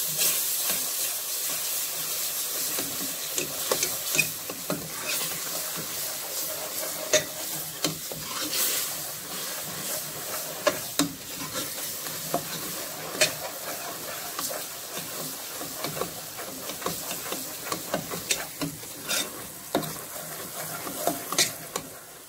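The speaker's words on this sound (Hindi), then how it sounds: "ये भी इसके साथ फ्राई हो जाएगा" Ginger garlic paste fries in a pan for Sindhi kadhi, making a steady hissing sizzle with frequent quick stirring scrapes and light taps spread evenly throughout, without speech.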